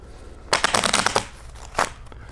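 A rapid burst of crisp riffle shuffling of stiff new playing cards, followed by a second short riffle after a brief pause.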